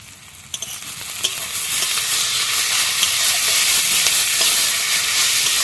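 Garlic hits hot oil in a village kitchen pan for chicken biryani. A sharp splash is followed by a loud, dense sizzle that swells quickly and holds steady and close.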